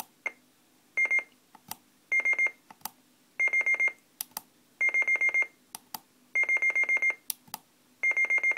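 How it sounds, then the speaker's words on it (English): A Bhi NEDSP1061 noise-eliminating DSP module fitted in a Yaesu FT-817ND radio gives clear electronic confirmation beeps in six quick bursts of several pips each, with short single pips between them, against a quiet background hiss. "when it pips 8 times in a minute, they'll do single pips, release the button"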